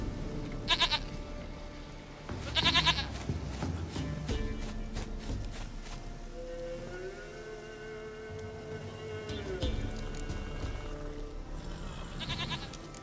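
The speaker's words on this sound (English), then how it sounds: "Goat of mine, dearest, sweetest goat." A goat in The Witcher 3: Wild Hunt video game bleats in short, nasal bursts, several cries spaced across the stretch, over a faint sustained tonal game ambience.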